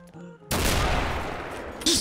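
In the video game Mare Nostrum, a sudden loud burst of gunfire, a sustained blast that fills the clip, with a second sharp report near the end.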